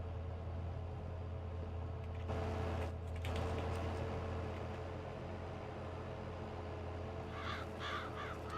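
Crows cawing in Farming Simulator 22 over a steady low engine hum, with a few harsh calls rising and fading across the stretch.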